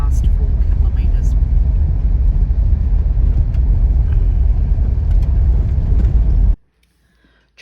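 A car drives the final unsealed gravel stretch into Trephina Gorge in the East MacDonnell Ranges near Alice Springs, giving a loud, steady rumble of tyres and engine that cuts out abruptly near the end.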